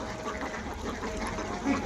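Ducks on a farm beside a wetland quack faintly amid a steady outdoor background, with a short louder call near the end.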